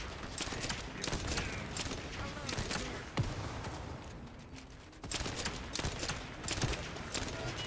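Rapid video-game gunfire in The First Descendant during a mini-boss fight: dense, continuous bursts of automatic shots with sharp impact cracks, loud and steady throughout, with faint speech mixed in.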